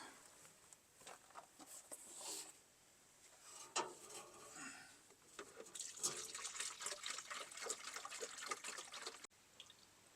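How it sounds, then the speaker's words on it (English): Water poured into the radiator of an F600 pickup truck, a quiet running trickle with irregular splashes and drips that grows steadier toward the end. "let me go top this off with some water"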